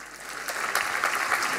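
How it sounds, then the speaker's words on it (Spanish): Applause from an audience at a talk in Buenos Aires on Argentina's future, a steady broadband patter of many hands clapping, moderately loud and sustained, without speech. "Aplauso renovado para él."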